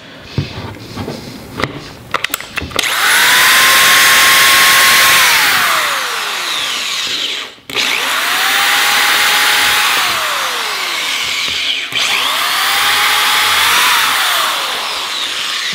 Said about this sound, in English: you're gonna do a pilot hole for each